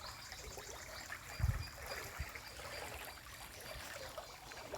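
Clear water flows in a small stream outdoors with a soft, steady trickle, faint and continuous, broken by a couple of brief low thumps.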